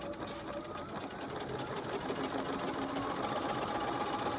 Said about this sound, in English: put the edge of your zigzag edge next to the edge of your presser foot and stitch along there